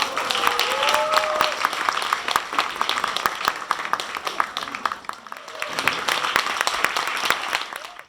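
Audience clapping at a youth Korean-language competition, sharp claps forming a sustained round of applause, with voices heard over it at times.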